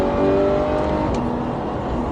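A car accelerates hard on a race circuit, its engine note rising steadily as a loud, continuous roar heard from inside the cabin, with no voices.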